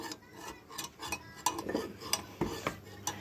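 A spoon stirs sugar into water and clinks against the cup in quick, uneven taps, close and fairly quiet, with no talking over it.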